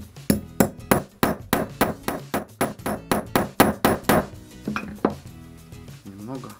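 A small hammer taps a punch against metal while a winter fishing jig is made from an old TV antenna, a rapid run of sharp, close, ringing strikes followed by a few slower hits.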